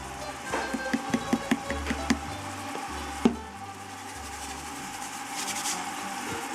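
Dried basil leaves are crushed and ground between the palms while making spaghetti sauce, giving a series of quick rhythmic rubbing crackles up close, followed by a sharp knock and a quieter stretch of kitchen ambience.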